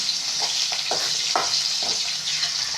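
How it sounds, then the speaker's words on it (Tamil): Salted onions sautéing in a pan for Tamil fish kulambu: a loud, steady frying hiss up close, punctuated by rhythmic stirring scrapes, with no talk. "சால்ட்டு தூவிட்டு நல்லா வதக்கிக்கோங்க"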